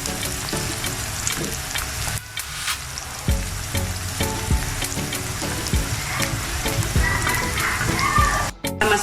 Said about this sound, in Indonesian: Ini kita goreng sampai layu ya guys